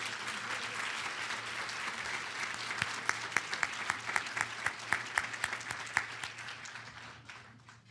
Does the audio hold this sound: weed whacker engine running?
no